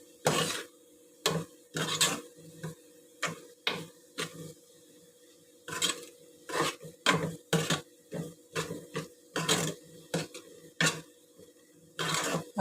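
Cabbage curry with ginger garlic paste stirred in a pan, a spoon scraping and knocking against the metal in irregular bursts, close and moderately loud with no talk.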